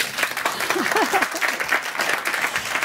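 A conference audience breaks into sustained applause, a dense, even wash of clapping with a few voices and a brief vocal call mixed in under the hands.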